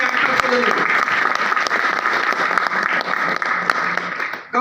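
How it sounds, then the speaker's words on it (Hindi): Audience applause for a company's managing director at a training event, sustained dense clapping filling the room steadily before dropping off at the end. "हम चाहब एक जोरदार ताली हमर मैनेजिंग डायरेक्टर के लिए।"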